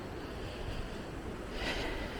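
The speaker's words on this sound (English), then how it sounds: "And you can tell it's windy." Wind blowing outdoors on a cold night walk at an RV site after constant precipitation, a steady broadband rush with a brief stronger gust near the end, no voices.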